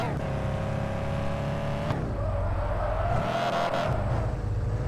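A Ford Mustang engine roars and revs continuously, pitch rising and dropping, close and loud, with a brief dip before climbing again.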